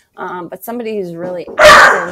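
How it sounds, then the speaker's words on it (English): A person speaks, then a pet dog gives one loud, sharp bark close by that cuts in right at the end. "Sorry about that barking. That was my dog."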